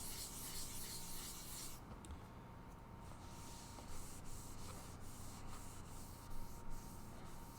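Fine hand sanding scrapes steadily and close up, a soft, continuous rasping rub with faint rhythmic strokes and no talking.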